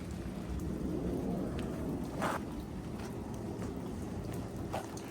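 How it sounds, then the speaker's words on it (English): Heavy rain pours down in a steady, dense hiss on the surfaces close by, constant and loud, with a dull rumble underneath and no voices. "Pissing down with rain, absolutely pissing down with rain."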